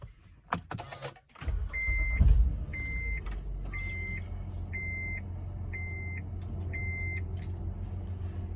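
A Honda Odyssey or Pilot starts up: a short starter crank is followed by a steady, close engine idle, while a parking-sensor chime beeps six times in an even rhythm above the running engine.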